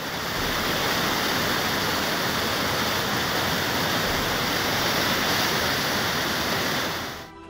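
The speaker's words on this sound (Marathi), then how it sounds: "बलवडी येथील येरळा नदीचा मोठा पूल देखील पाण्याखाली गेला आहे." A flooded river rushes over a submerged bridge after heavy rain, a loud, unbroken roar of churning water that fades out only at the very end.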